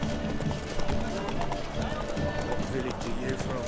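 Horse hooves trotting steadily in a game set on a road, the rhythmic clip-clop continuous and fairly close beneath dense music and ambience, with voices talking over it.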